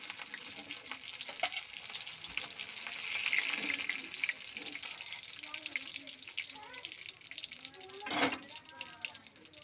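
Eggplant slices fry in a pan over low heat with a soft continuous sizzle, broken by a few stirring clinks and a brief louder burst near the end, while someone talks quietly.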